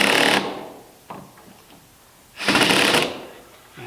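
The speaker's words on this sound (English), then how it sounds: "I've set the wood screws in. I'm just going to do a little final torquing here." A screwdriver drives wood screws tight into a wooden boat plank for final torquing, giving two loud, raspy, grinding bursts about two seconds apart with faint scraping between, close and with no talking.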